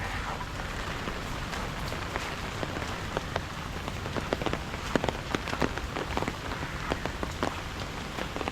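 Steady rain falls on surfaces at Poovar Island Resort in Kerala, a dense, even patter with distinct drops tapping nearby, moderately loud and continuous with no voices.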